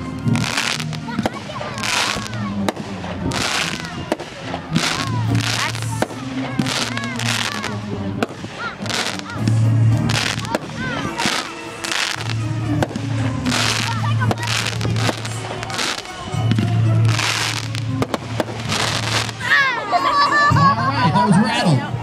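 Rapid bursts and crackling pops from a fireworks cake named Rattled fill the air in a dense, continuous barrage, loud and close, with voices and crowd chatter faintly underneath.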